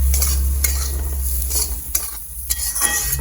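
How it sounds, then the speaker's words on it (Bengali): Black spice powder frying in oil in a pan, a steady close sizzle with occasional stirring scrapes and clinks of a utensil against the pan, with no talk. "এবার দিয়ে দিচ্ছি সামান্য কালো গুঁড়ো একসঙ্গে ভেজে নেবো এটাকে"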